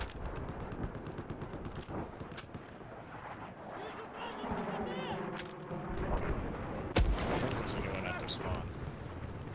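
Sniper rifle fire in Battlefield 4 Conquest on a carrier assault map, one sharp loud crack standing out partway through amid steady game noise, other gunfire and engine rumble, with players talking over it.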